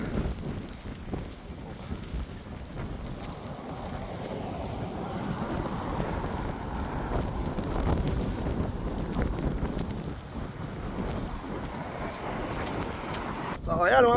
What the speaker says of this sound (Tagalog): mahangin na malakas ang snow